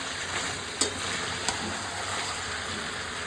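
Fish head curry frying in a pan while being stirred, a loud, steady close sizzle with a couple of brief scraping clinks of the utensil.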